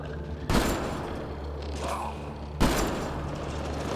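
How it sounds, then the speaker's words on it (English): Assault rifle fire in the sci-fi shooter Mass Effect Andromeda, two loud, sharp bursts roughly two seconds apart over a steady game background hum. "Assault rifle action."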